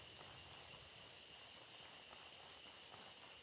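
Steady rain in Outward Definitive Edition, a constant soft hiss of falling drops on the ground with faint scattered patters, quiet and unbroken throughout with no talking.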